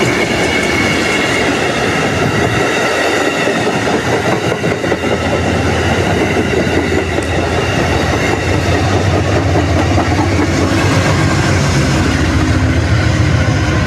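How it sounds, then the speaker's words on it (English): A train rumbles past close by in Lawrence, Massachusetts, wheels clattering rhythmically on the rails with occasional squeals, loud and continuous throughout. "Here comes a train. We're gonna see a train coming through."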